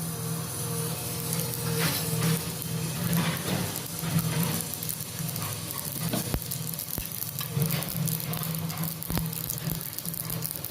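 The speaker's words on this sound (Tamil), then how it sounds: "கடுகு நல்லா பொரியுது." Mustard seeds spluttering and popping in hot oil in a pan, a steady quiet sizzle scattered with sharp little crackles, heard close and without talk.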